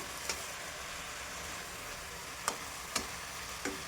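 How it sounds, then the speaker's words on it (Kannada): Fenugreek greens frying in a pan for a vegetable sagu: a soft, even sizzle running steadily throughout, broken by a few sharp clicks or taps, with no voices. "ಈಗ ಒಂದು 5 ನಿಮಿಷ ಹಿಂಗೆ ಫ್ರೈ ಆಗಕ್ಕೆ ಬಿಡೋಣ"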